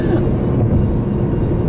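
A biplane built to look like a 1935 model flies over Austin, Texas, its engine a loud, continuous, low droning rumble filling the whole moment.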